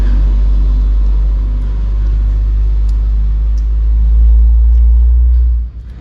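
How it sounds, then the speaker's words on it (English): A heavy truck rumbles past close by a boat under repair, a deep loud drone swelling and then dropping away at the end, with no talking. "There's a truck going by right now."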